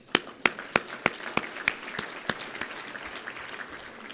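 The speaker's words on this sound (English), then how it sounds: "I'll give you a round of applause." Applause from a banquet crowd at an annual installation and awards dinner fades out, with a few sharp, evenly spaced claps standing out over a thinning wash of clapping.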